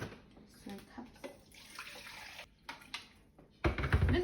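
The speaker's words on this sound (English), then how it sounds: "So each bowl we add 3 cups of water." Water is poured into a bowl in several splashy streams, measured by the cup for whole wheat bread, with short pauses between pours and people talking nearby.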